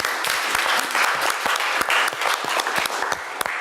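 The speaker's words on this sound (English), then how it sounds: "So a big clap for you." A conference audience of cancer nurses applauds at an education day on cancer nursing advocacy, giving dense, lively clapping with some sharper individual claps, held at a steady level for a few seconds.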